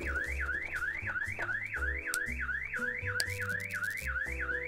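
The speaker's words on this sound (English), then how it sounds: "Does it stop the alarm or no?" Car alarm from the Klepto burglary game, a looping rising siren sweep repeating steadily and loudly, layered over game music with no talking.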